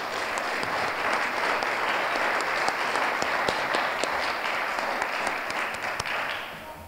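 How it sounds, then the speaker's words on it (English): Steady applause from a morning audience, dense clapping sustained throughout and easing slightly at the end, no voices above it. "So if everyone could give them a big round of applause."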